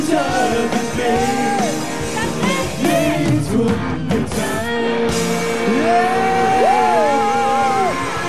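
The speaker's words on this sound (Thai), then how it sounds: "สุดยอด กรี๊ดมากกรี๊ดมาก" A concert crowd at Pattaya Music Festival 2012 screams and cheers loudly, with high shrieks and whoops rising and falling over a dense roar of voices.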